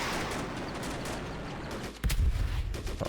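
A tank cannon fires in Men of War: Assault Squad during a Cold War battle: a continuous roar of combat noise, then a heavy, booming report about two seconds in, loud with deep rumbling afterwards.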